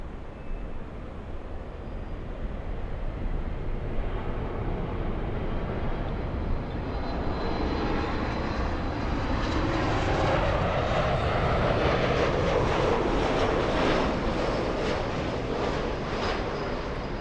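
A Delta airliner takes off from runway 24 left at LAX, its jet engines giving a steady, powerful roar that builds gradually and holds loud and broad for the whole stretch, heard from the airport side with no talking.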